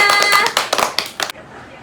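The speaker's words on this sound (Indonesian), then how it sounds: "Oke, tepuk tangan untuk kita semua." A few sharp hand claps, brief and scattered, in a classroom over a bright ringing tone and background chatter, ending abruptly.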